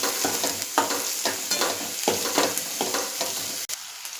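Onion frying in hot oil in a kadai, with steady sizzling broken by repeated spoon stirs and scrapes at a loose, uneven rhythm, close and fairly loud with no voices.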